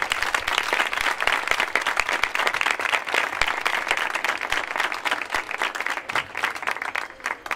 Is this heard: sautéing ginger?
no